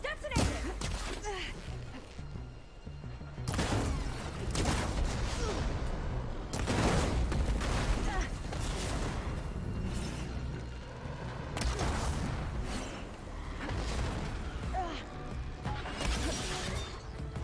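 Canister detonations rumble and crash through a battle in the video game Horizon Forbidden West, set in the Burning Shores. Booming blasts and clattering debris come in dense bursts, loud and continuous.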